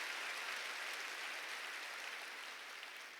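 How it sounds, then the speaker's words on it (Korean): A church congregation claps together in a steady, dense wash of applause that holds evenly for a few seconds, fairly faint and with no voices on top. "박수 세게 치세요."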